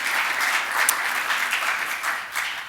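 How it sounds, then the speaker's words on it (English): At a regional Three Minute Thesis research competition, the audience gives the presenters a round of applause: brief, steady, fairly loud clapping from a room full of people, with no voices over it. "Can we give all our presenters a welcoming and round of applause for a great series of talks?"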